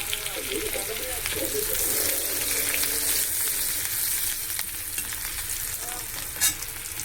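Chopped tomatoes frying in a pan for a fish curry, a loud continuous sizzle with steady stirring and spatula scraping, one sharp knock near the end.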